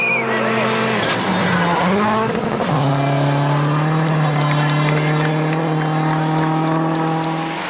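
Petter Solberg's Subaru rally car is at full throttle in 5th gear on a gravel stage of Rally Finland, its engine roaring loud and close. The engine note drops sharply at a gear change and then holds a steady high drone as the car passes.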